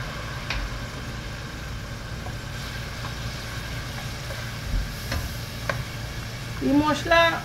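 Chili, curry and coriander powder spices stir-fry in a pan with a little water for a lentil and ridge gourd dal, giving a soft steady sizzle with a few scraping stirs and clinks near the end.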